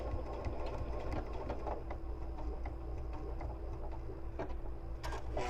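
A sewing machine stitches backwards while piecing a quilt block on foundation paper. Its fast, even mechanical whir and needle clatter run steadily and close up, with no talk over them.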